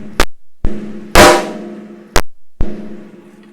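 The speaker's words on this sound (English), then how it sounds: "the snare I have on there is my Portnoy signature Babinga, which sounds like this" A Portnoy signature Babinga snare drum is struck in isolated hits: a few crisp cracks with ringing tails, one louder, fuller blow, and short gaps of silence between them, close and clear.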